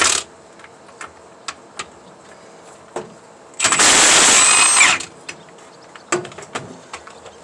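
A Milwaukee power tool, used while working on a 66 Pontiac, fires in one loud burst of about a second amid scattered clicks and taps from nearby work.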